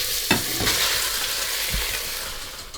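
Meat for lasagna hits a smoking hot pot and fries with a loud, bright sizzle, close up, with a few stirring knocks and the sizzle easing slightly toward the end.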